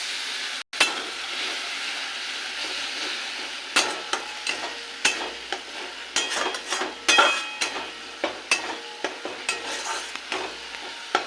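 Potol and paneer sizzle and fry in a pan after a splash of water, with a steady hiss broken by repeated clinks and scrapes of a spoon stirring against the pan.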